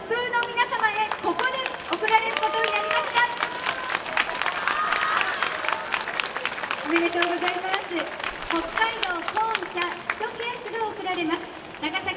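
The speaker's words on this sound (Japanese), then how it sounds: "大きな大きな拍手が送られております" Big applause for the Nagasaki University team Toppu at the 33rd YOSAKOI Soran Festival 2024 in Sapporo: a dense, sustained crowd clapping throughout, with an announcer's amplified voice speaking continuously over it.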